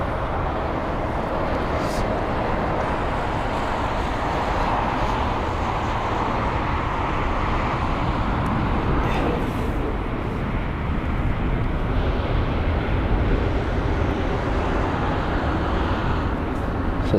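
A TAP Air Portugal A320 airliner in Starlines livery lands on Heathrow runway 27R, a steady broadband jet roar that holds evenly throughout without a break.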